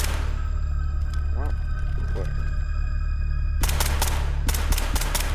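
Enemy gunfire in the horror tactical shooter SCP 5K: after a stretch of steady background hum with game noise, several sharp shots crack in quick succession near the end, fairly close and loud.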